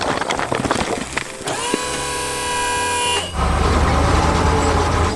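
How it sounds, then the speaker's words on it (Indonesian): A blue truck drives on a construction site, with a sustained loud horn blast sounding for about two seconds over engine and clattering machinery noise that continues throughout. "Truk biru melaju kencang membawa beban berat."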